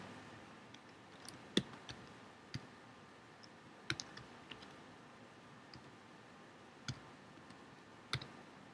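Sparse, quiet clicks and taps on a computer keyboard while a university name is typed into an online profile form, isolated keystrokes spaced irregularly against faint room noise.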